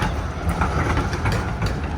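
A Melbourne tram rumbles past on a city street near Collins Street, a steady, loud low mechanical roar with faint rhythmic clatter of wheels on rails, close by and unbroken for the whole stretch.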